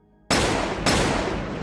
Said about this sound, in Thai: ไม่นานนักเสียงปืนก็ดังขึ้นพร้อมๆกัน